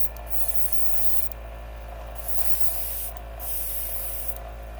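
A Gaahleri Ghad 39 airbrush sprays water in short hissing bursts, four of them, over a constant low electrical hum from the compressor.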